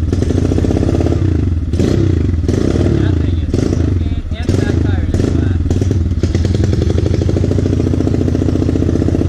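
Pit bike engine running loud and close, a steady rough droning rumble that dips briefly midway, with a person talking over it.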